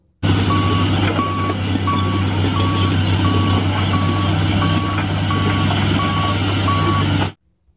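A toy sand dump truck sounds its reversing alarm: about ten evenly spaced electronic beeps over a constant, loud engine drone, with no voices, until it cuts off abruptly.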